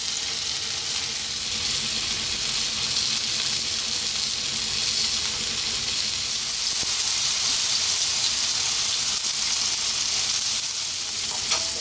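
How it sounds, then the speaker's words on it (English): Food for a full English breakfast frying in a pan over a fairly lively heat, a continuous bright sizzle and crackle that stays even and close throughout, with no voices. "We're going to fry them for like 2 to 3 minutes on each side on a kind of fairly lively heat."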